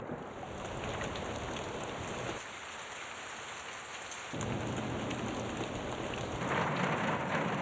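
Steady heavy rain from a storm pours down with a dense hiss, briefly easing in the middle before returning as loud and constant as before.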